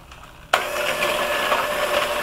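A mixer kicks on abruptly and runs steadily, whirring through a filling of coconut oil and powdered sugar for chocolate bon bons, close and continuous with no voices.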